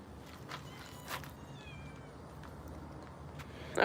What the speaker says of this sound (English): If you hear any meowing, that's just our baby kitties that we have everywhere on our farm.